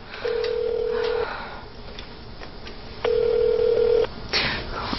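A phone is dialed in a Korean TV drama scene, with two long sustained tones and a few short clicks and beeps from close by, no speech over them.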